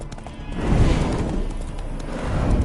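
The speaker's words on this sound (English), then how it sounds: "Spooking my horse." A horse neighs loudly up close amid hoof clatter and rough noisy movement, with a brief burst of extra scuffling toward the end, in the video game The Witcher 3: Hearts of Stone.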